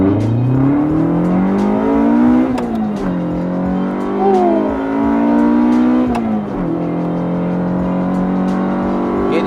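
A Proton Satria R3 engine, naturally aspirated and stock, revs hard in a garage setting, its pitch climbing and falling through several loud, close sweeps with brief drops between pulls.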